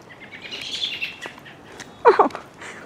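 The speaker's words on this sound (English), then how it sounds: "The birds are a chirping." Small birds chirp outdoors in spring in Richmond, scattered thin tweets over quiet ambience, with one louder, closer burst of chirping near the end.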